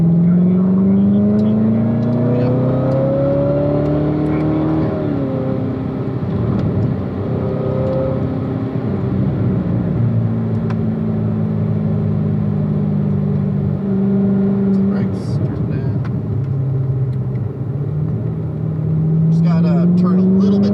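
A car engine on a race track revs and climbs steadily through the gears, its pitch sweeping up and dropping back over and over. The engine stays loud and close throughout while an instructor keeps talking over it.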